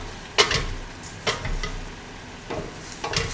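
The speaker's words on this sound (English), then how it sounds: "So this is when stirring is very important." Mushrooms coated in brown sugar being stirred in a hot sizzling pan, with a few distinct scraping strokes of the spoon over a steady background sizzle.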